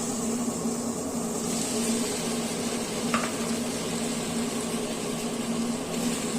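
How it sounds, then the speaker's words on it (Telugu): Pasta dropped into hot oil with chili sizzles in a steady, even hiss from start to finish, with one brief click near the middle. "పాస్తా వేస్తాను."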